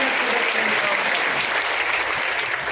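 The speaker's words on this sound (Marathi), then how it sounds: "जोरदार टाळ्या देऊन सांगा की आपण दरवर्षी" Audience applause at a Shiv Mahapuran recitation held at Mangalnath temple for Mahashivratri: dense, steady clapping from a sizeable crowd, sustained evenly for a few seconds with no voices standing out.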